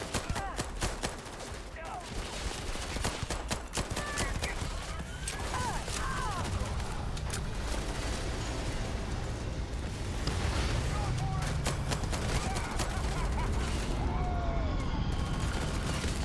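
In the space game Starfield, a firefight goes on with steady rapid gunshots and bursts of automatic fire. Blasts and clatter run throughout, and a voice speaks now and then over the shooting.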